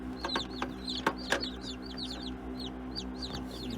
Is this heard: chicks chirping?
yes